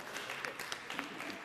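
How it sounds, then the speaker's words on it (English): An audience at a company awareness session for an innovation award claps briefly, the scattered hand claps soft and somewhat distant. "Let's clap for Ahmed."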